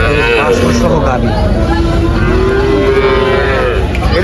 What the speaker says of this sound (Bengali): এই হচ্ছে একটা বাছুর সহ গাবি।